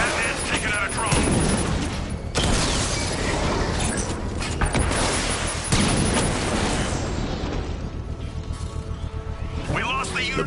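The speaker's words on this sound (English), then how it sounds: "Batman's taking out a drone." Drone being destroyed in Batman: Arkham Knight: dense, loud, continuous explosive rumble and crackling blasts with several sharp cuts, heavy game combat noise throughout, and a character's voice mixed in.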